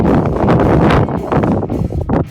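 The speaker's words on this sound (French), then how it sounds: "Il y a un peu de vent, je pense que vous devez l'entendre." Gusty wind buffets the microphone in loud, uneven rumbling bursts, close and blustery, rising and falling throughout.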